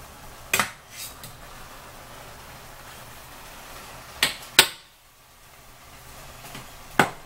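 A spatula clinks and scrapes against a pan of sloppy joe mixture in three sharp, close metallic knocks spread across a quiet stretch, with soft stirring noise in between.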